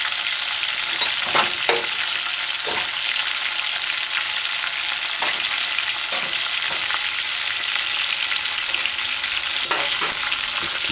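Chicken pieces frying untouched on one side in a pan for pineapple chicken stew, giving a steady, loud, close sizzle throughout with a few faint clicks and stirs, no talking.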